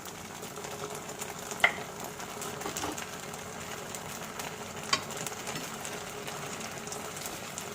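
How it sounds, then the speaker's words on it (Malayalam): Fried chicken pieces sizzling in Manchurian sauce in a pan, a low steady bubbling fry with two sharp utensil clinks, close and fairly quiet, no voices. "ഇനി നമുക്ക് ഇതിലേക്ക് നമ്മൾ ഓൾറെഡി ഫ്രൈ ചെയ്ത് വെച്ചേക്കുന്ന ചിക്കൻ പീസസ് ചേർത്ത് കൊടുക്കാം"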